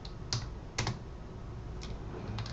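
Typing on a computer keyboard, soft and quiet, a few scattered keystroke clicks over faint room noise.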